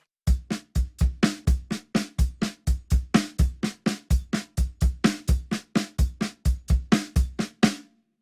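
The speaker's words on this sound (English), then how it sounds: "We're going to play a unison pattern with the hi-hat and the bass drum playing together" A drum kit plays a steady unison pattern, hi-hat and bass drum struck together with the snare from the left hand, about three even hits per second for nearly eight seconds, close and loud with no talking.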